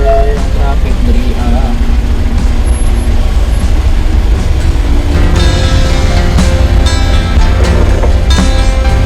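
Bumper-to-bumper city traffic in Davao City, a loud continuous roar of engines and tyres, with hissing brakes and rattling vehicles close by throughout.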